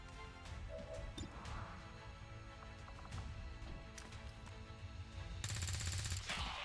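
Gunfire in the video game Long War 2, several sharp cracking shots and impacts scattered over a low rumbling game background, with a loud burst of noise near the end.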